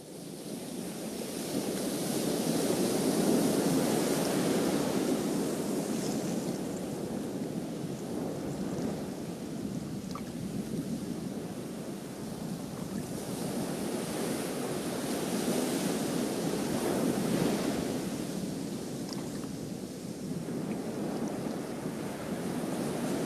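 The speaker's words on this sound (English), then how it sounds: "she was actually listening to the sound of the ocean" Ocean waves breaking on a shore, heard as a steady broadband wash of surf that swells louder around the third and seventeenth seconds, with no voices.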